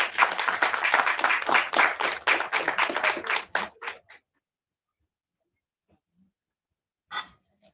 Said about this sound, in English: A huge round of applause for our Dr.